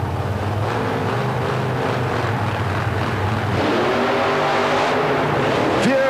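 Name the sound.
monster truck engines running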